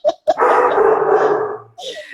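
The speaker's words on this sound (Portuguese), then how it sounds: "Na hora que ele para de latir" A dog gives a short yip, then one loud, drawn-out bark close by, followed by a brief fainter whimper.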